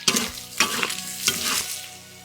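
Meat stir-fried in a wok with chopped garlic and dried chili, loud bursts of sizzling in rhythmic surges as the food is tossed, about four strong waves that fade into a softer hiss.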